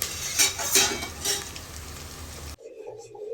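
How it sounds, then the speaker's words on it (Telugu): Onions frying in a pan for chicken dum biryani, a busy kitchen clatter of stirring, utensils and sizzle for about two and a half seconds, then cutting abruptly to a quieter tail. "ఈ ఆనియన్స్ బాగా ఫ్రై అయిపోవాలి."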